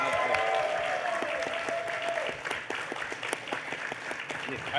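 Audience applause fills a convention panel room at Everfree Northwest, a steady wash of many clapping hands held at even loudness for several seconds, with a faint tonal whistle or feedback line early on.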